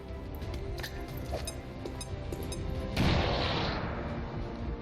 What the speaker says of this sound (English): I'm gonna throw a frag grenade at him.